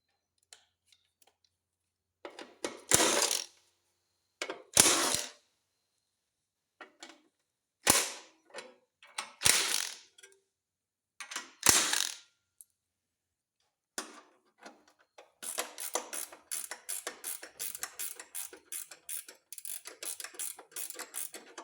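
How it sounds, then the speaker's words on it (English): A ratchet wrench loosens the bolts on the starter cover of a Simplicity Sunstar loader engine, giving sharp, close clicking bursts separated by pauses, then a longer run of rapid ticking near the end. "So you're going to take these bolts off here and pull this little cover off to get to the starter."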